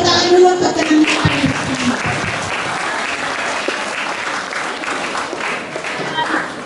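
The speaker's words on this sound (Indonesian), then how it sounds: "Selanjutnya tepuk tangan dulu untuk teman-teman." High school students clap together in a full, continuous round of applause in a school hall, with a brief voice and tone near the start before the clapping settles evenly.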